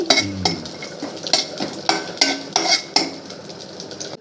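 Cashew nuts fry in ghee while a metal spoon stirs and scrapes the pan in a regular rhythm of sharp clinks, seven or eight strokes over a soft sizzle, close up and without speech.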